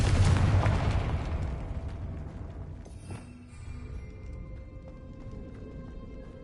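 Spell blasts in Hogwarts Legacy, cast as Confringo and Incendio inside a decayed catacomb, open with a loud booming burst that rumbles and fades, followed by a quieter crackle and a sharp pop.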